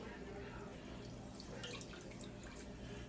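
Raw chicken is rinsed under tap water with lemon and vinegar in a home kitchen, giving faint dripping and splashing beneath a low steady hum.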